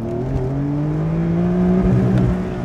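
A 3-litre twin-turbo flat-six in a Porsche 911 (992) Carrera S Cabriolet hums steadily with a smooth, continuous engine tone, close and fairly loud, with no talking.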